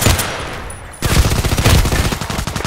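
SKS carbine gunfire in the shooter game Contract Wars: rapid, dense bursts of close, loud shots crackling one after another, with a brief quieter gap near the start.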